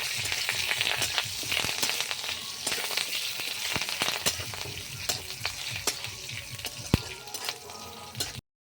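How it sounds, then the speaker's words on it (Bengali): Curry leaves and chopped garlic crackle and sizzle steadily in hot oil as a tempering for dal, with scattered sharp pops and stirring scrapes, close and continuous with no talk. "ফোড়নটা ভাজা হয়ে গেছে।"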